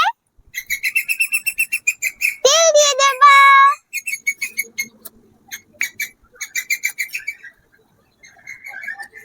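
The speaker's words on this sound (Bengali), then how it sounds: "পাখিদের আবার হঠাৎ কি হলো, এত ডাকছে কেন পাখিগুলো?" Several birds call and chirp outdoors in quick repeated bursts, fairly close and clear, with a brief spoken phrase in between.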